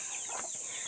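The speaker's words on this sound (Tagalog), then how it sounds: "Ayan, mayroon siyang mga manok." Chickens kept at a rural provincial home, soft clucking heard faintly over a loud steady high hiss, no one speaking.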